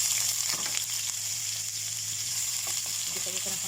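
Garlic and onion sauté in hot oil for chicken spaghetti, a loud constant sizzle close by with occasional spatula scrapes and stirring, no voices.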